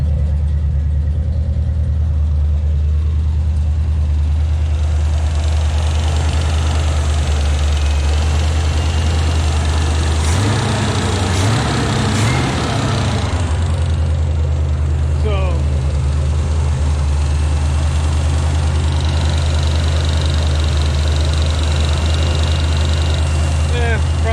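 A 1977 Cutlass engine with new exhaust gaskets idles steadily up close with a low, even rumble, briefly revving midway, while people talk over it.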